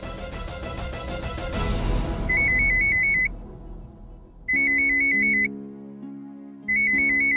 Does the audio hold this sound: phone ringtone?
yes